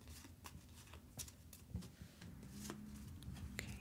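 Deck of cards being shuffled for a tabletop board game, Tiny Epic Defenders 2nd edition, producing quick papery riffles and taps, close and soft.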